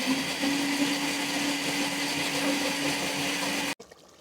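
A blender grinds soaked wheat with cold water, steadily with a loud whirring motor and churning liquid, then cuts off abruptly near the end.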